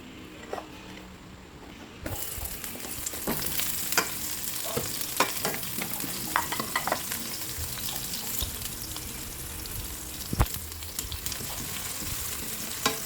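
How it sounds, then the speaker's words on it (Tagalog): Pork sizzling and frying in hot oil in a pan for sinigang, with crackling spatters and scraping stirs throughout after a quieter start, close and moderately loud. "Yan, magpainit na tayo ng ating mantika. Tayo ay magigisa na."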